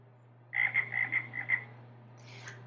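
Frog croaks played as a sound effect in an ActivInspire classroom presentation: a run of six quick, clear croaks with a steady low hum underneath, followed by a fainter trailing sound.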